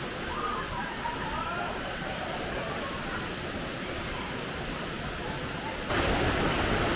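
Small waterfalls in the Seven Ladders canyon in Romania give a steady broadband rush of falling water throughout. The roar swells louder near the end.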